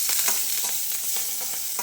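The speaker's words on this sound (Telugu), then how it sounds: "వేగుతా ఉన్నాయి నూనెలో" Garlic and curry leaves frying in hot oil for a tempering, a steady close, bright sizzle with soft crackle and stirring, continuous and alone without any talking.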